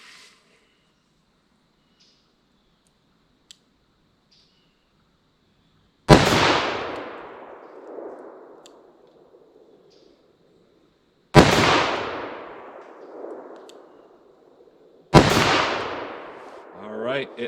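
.44 Magnum revolver fired at a target 50 yards away outdoors: three loud, sharp gunshots, widely spaced, each with a long echoing decay rolling off behind it, after a quiet stretch with faint movement.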